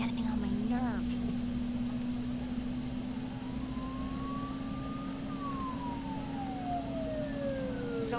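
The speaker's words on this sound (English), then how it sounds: "Don't those sirens sound really close?" A siren wails steadily in the distance in the video game Persona 4 Golden, its pitch rising and falling slowly over a constant low hum and background drone.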